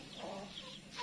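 Hens in a backyard chicken coop where birds are laying eggs, giving soft, close clucks and murmurs over a quiet background.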